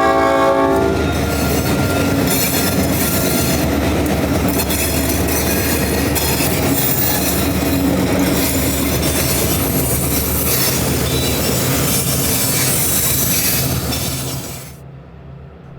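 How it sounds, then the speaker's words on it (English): EMD diesel locomotives haul a loaded phosphate train through the night near State Road 37, engines droning loud and steady with wheel rumble and a horn, before the sound cuts off abruptly near the end. "the EMDs struggle to pull the phosphate back through the darkness"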